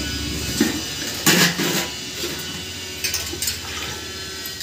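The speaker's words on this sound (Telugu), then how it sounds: "ఇందులో 2 గ్లాసులు వాటర్ పోయండి" Water poured into a bowl of sago pearls (tapioca) for a Telugu sago-vermicelli payasam, a steady liquid splash with a few clinks of a utensil against the vessel, with no talk.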